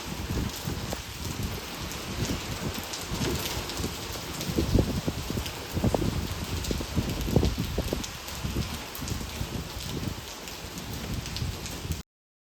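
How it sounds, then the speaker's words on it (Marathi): Heavy rain pours down in Satara, a dense, steady hiss of falling water with scattered louder drops pattering on surfaces throughout, and no voices. "पाऊस पण चांगलाच पडत होता."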